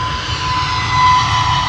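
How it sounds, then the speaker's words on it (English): An EasyJet Airbus A320neo jet on runway 25 gives a steady, loud engine roar with a thin whine above it, sustained and close without pause. "The A320neo EasyJet that's lined up on runway 25 that will be flying past your screens in a second is off to Sharm El Sheikh."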